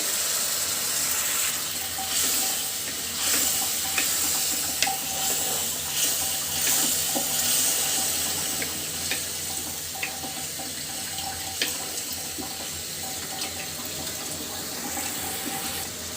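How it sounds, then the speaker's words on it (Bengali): Water poured into a hot pan of ginger, garlic and cumin masala being fried, giving a steady close hiss and sizzle with scattered crackles and pops throughout. "মশলাটা কষানোর জন্য একটুখানি পানি দিয়ে দিচ্ছি।"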